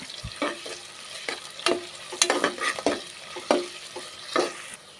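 Onions frying in a pan toward golden brown for egg biryani, a soft sizzle under repeated scraping stirs of a spoon against the pan, close and irregular, with no voices.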